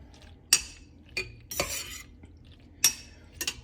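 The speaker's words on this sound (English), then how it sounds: "once I get it stirred into these still very hot macaroni noodles, it will continue to melt" A spoon scrapes and clanks against a pot while melted butter is stirred into very hot macaroni noodles, giving a handful of sharp metallic knocks and wet scraping strokes close by, with no talking.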